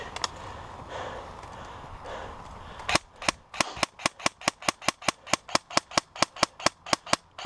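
Toy cap gun or gunshot-like pops fire in a rapid, evenly spaced string of about twenty sharp cracks, starting abruptly after a few seconds of muffled background noise and continuing steadily to the end.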